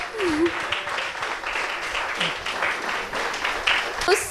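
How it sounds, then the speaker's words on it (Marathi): Sustained, loud audience applause fills an award ceremony hall for students, steady clapping throughout with a voice briefly audible over it. "टाळ्या थांबायला नको जोरात टाळ्या होऊ देत"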